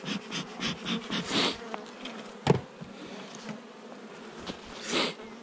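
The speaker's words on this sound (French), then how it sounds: "Mais bon, c'est des abeilles." Steady insect buzzing from several bees, rising and falling in short swells, with a sharp knock partway through; no voices.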